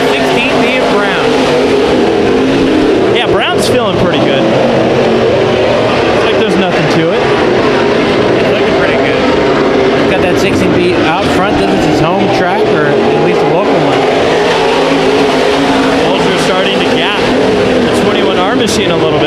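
Race cars roar around Ocean Speedway during a heat race, engines droning loudly and continuously as they pass, under constant loud commentary from announcers.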